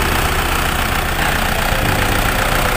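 A 1997 Isuzu Panther Hi-Sporty diesel engine idling, recorded up close with a loud, steady, even clatter that holds constant throughout with no other sounds.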